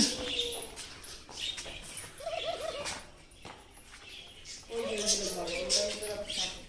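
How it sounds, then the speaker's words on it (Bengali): Doves coo softly in short repeated phrases at a pyramid attraction in Sonargaon, Narayanganj, mixed with other chirps, rustling and faint background voices; the calls are moderately distant and quiet. "ঘুঘু পাখি দেখা যাচ্ছে"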